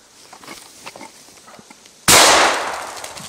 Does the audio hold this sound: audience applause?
no